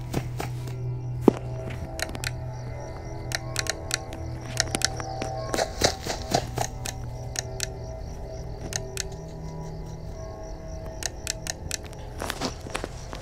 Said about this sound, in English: I heard some footsteps